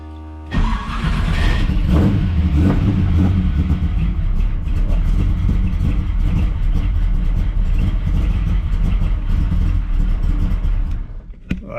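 A 427 small-block Chevy solid roller engine in a Camaro fires up on a cold start, then settles into a loud, lumpy, choppy idle with revs heard from the tailpipes for about eleven seconds.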